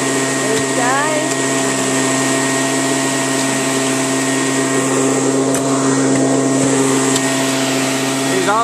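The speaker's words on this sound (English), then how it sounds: "Shown the new members how to use the dry washer." A dry washer machine running outdoors for gold prospecting gives a loud, steady motor drone and blower whine with a constant mechanical hum, with voices faintly under the noise.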